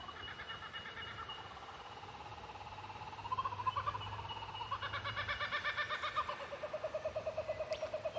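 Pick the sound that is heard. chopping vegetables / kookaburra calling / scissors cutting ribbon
kookaburra calling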